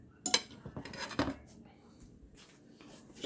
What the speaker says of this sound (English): let's just spoon that chicken right back in there.